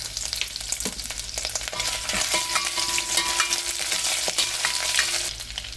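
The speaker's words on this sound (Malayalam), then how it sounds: "ഇത് നമ്മൾ നേരത്തെ അരിഞ്ഞെടുത്തിട്ടുണ്ടായിരുന്ന ഇഞ്ചിയാണ്, 1 ടേബിൾ സ്പൂൺ. അതും കൂടെ നമുക്കിതിലേക്ക് ചേർത്ത് ഇളക്കി കൊടുക്കാം" Chopped ginger and curry leaves sizzle loudly in hot oil in a pan for poori masala. A spatula stirs them with intermittent scrapes over a constant crackling fry, and nobody speaks.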